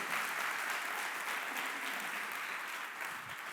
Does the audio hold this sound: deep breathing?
no